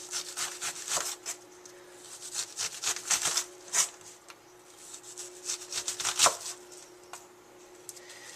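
A knife taps and scrapes against a wooden board in quick, irregular strokes while dicing an onion, close by and fairly quiet, with no talking.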